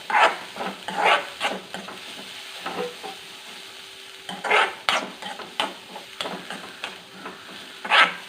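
A mixture sautés lightly in a little oil, with soft background sizzle broken by several sharp bursts of a spoon stirring and scraping the pan at irregular intervals. No one speaks.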